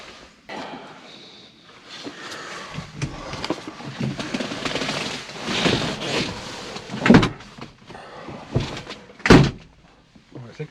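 Door of a 1966 Ford Mustang with a 289 engine shutting, a solid thunk standing out near the end amid cabin rustling and handling noise.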